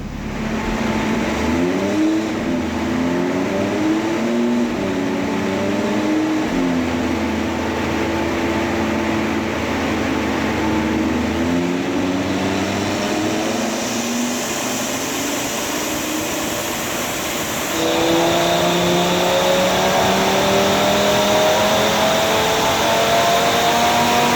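Tuned Audi RS3 with intake and decat running a JB4 tune, engine revving hard through full-throttle pulls with rising and falling harmonic sweeps, loud and close, with no talk.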